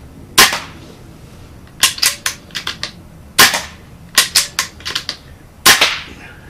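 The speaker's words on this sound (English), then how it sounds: "And now for the last 3 shots, using the DonnyFL KOI suppressor." An airgun fitted with a DonnyFL KOI suppressor fires three sharp, close cracks a couple of seconds apart, each followed by a quick run of mechanical clicks, with no speech.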